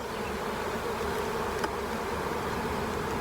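Honeybees buzz steadily and close up as a colony is shifted by hand from a hive into a new box, a dense continuous insect drone with no talking.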